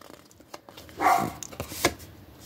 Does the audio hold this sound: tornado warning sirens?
no